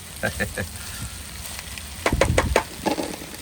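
Pasta with pesto, vegetables and chorizo being stirred and mixed in a frying pan, giving a steady close sizzle with clacking scrapes of the utensil bunching into a busier burst of stirring near the end.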